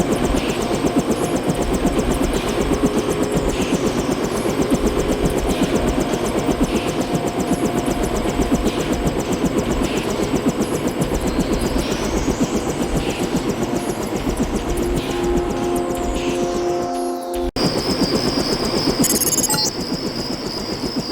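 A helicopter in the shooter Deus Ex: Nihilum thrums loudly and continuously in steady flight, a dense rotor and engine roar with a brief cut near the end.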